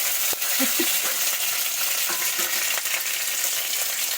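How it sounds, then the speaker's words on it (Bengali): Chopped ginger, curry leaves and green chillies sputter in hot oil for dal, a dense, loud, steady sizzle with scattered small pops and a couple of soft clinks, no talk. "প্রথমে দিয়ে দেবো হচ্ছে আদা কুচি তারপরে দিয়ে দেবো ক্যারি পাতা আর কাঁচা লঙ্কা একটু চবর চবর করে ফুটছে"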